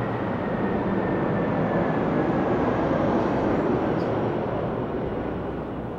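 A loud, steady engine roar fills the whole stretch without a break, close to an airplane passing low over an old fort near an airport in Philadelphia. No one speaks over it.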